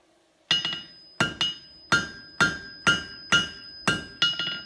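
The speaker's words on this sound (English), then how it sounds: "between the anvil and our hammer, we're going to forge out those shoulders" A blacksmith's hammer strikes metal on an anvil while forging a traditional bottle opener, seven ringing blows in a steady rhythm, each leaving a bright metallic tone that hangs and decays before the next strike.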